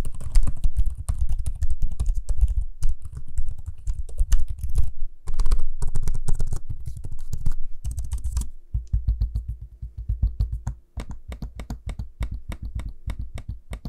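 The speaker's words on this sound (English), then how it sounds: "Here's an audio sample of me using the keyboard and trackpad so you can hear for yourself what they sound like." Rapid MSI Prestige 16 laptop keyboard typing in bursts, close up, followed by a run of sharper, evenly spaced trackpad clicks.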